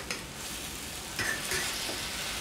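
Egg and potatoes frying in a pan while being stirred: a steady close sizzle with a few soft scraping strokes, fairly quiet, no voices.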